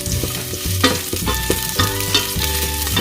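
Green curry ingredients, including garden vegetables, sizzle and fry in a pan on the stove over fairly high heat, with a spatula scraping and stirring in repeated strokes, close and loud.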